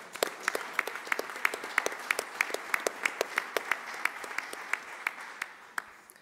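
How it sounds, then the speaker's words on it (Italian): An audience applauds at a shipping law conference panel, steady clapping from many hands with sharp individual claps standing out, continuing for several seconds before tapering off near the end. "Un applauso."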